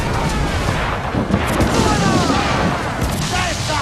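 Ship cannon fire during a naval battle in the video game Assassin's Creed IV: Black Flag, a dense, continuous barrage of deep booms and rumbling blasts that keeps the sound loud throughout, with voices in the mix.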